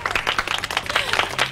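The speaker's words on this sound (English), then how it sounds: "I think Brooke deserves a great big round of applause for orchestrating this whole event." Short burst of crowd applause at an organised event, quick overlapping claps heard close and fairly loud, with faint murmuring mixed in.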